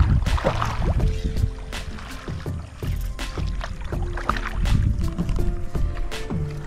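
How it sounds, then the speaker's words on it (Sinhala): A wooden canoe is paddled on Rajanganaya reservoir, with close paddle strokes splashing and dripping in an irregular rhythm, and water trickling against the hull. "අපි රාජාංගනේ වැවේ ඔරු පදිනවා."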